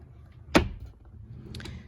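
A drawer of a baby's clothing dresser is pulled open with one sharp wooden knock and slide. Faint rustling follows in a quiet room.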